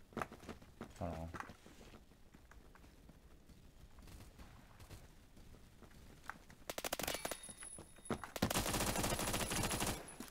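Bursts of automatic gunfire in the Roblox shooter Phantom Forces, scattered rattling shots under a player's voice and game noise, building into a loud dense volley near the end.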